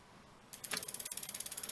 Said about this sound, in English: Now we can still snug the lug nut.